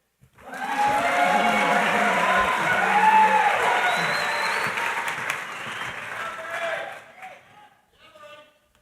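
A university graduate commencement crowd in a concert hall applauds for a master's degree candidate, a loud sustained burst of clapping with a few cheers that tapers off, followed by brief faint talk.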